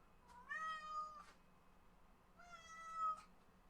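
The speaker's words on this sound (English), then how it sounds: "there's my cat." A pet cat meows twice indoors, each call a drawn-out, rising-then-falling cry about two seconds apart, close and moderately loud over a faint steady room hum.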